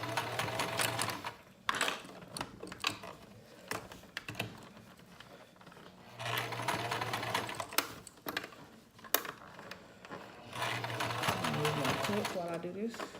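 A sewing machine stitches an elastic band in three steady bursts of whirring, each run stretched as the band is pulled forward, with short pauses and clicks between them and a voice talking in the gaps.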